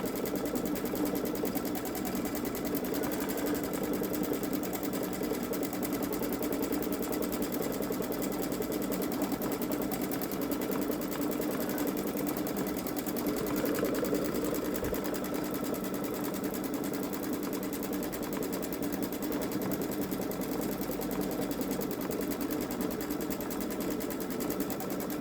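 A Baby Lock Solaris sewing machine stitching out an edge-to-edge quilting pattern, a continuous fast, even whirring hum that runs steadily and close throughout, with no voices.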